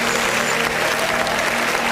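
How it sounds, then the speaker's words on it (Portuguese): A church congregation claps during worship, steady dense applause filling the room at an even, loud level without pause. "E as palmas engrandecem o nome de Jesus."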